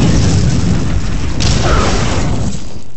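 Phosphor shell blast from a weapon in the video game Clive Barker's Undying: a loud, sustained low booming roar filling the whole clip, with a brighter burst partway through and rumbling continuing alone.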